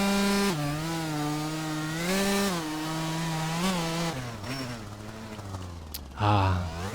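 A two-stroke dirt bike in MX Bikes at Glen Helen revs with a buzzing, raspy engine note that rises and falls through throttle changes, then drops off near the end.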